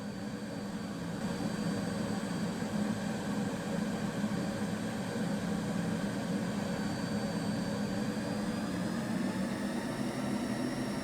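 Turbine engine of an Alouette III helicopter running in the X-Plane 12 flight simulator, a steady whining hum with a high tonal whistle, constant and moderately loud without voices.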